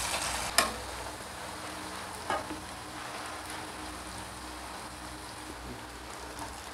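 Cauliflower 65 pieces fry in hot oil with a constant crackling sizzle, punctuated by a couple of sharp clicks early on, with no talk over it.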